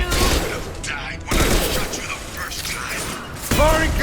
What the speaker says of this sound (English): Firing concussion shot.